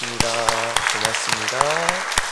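A church congregation claps through a steady patter of applause at the close of a Sunday evening service while a voice speaks over it.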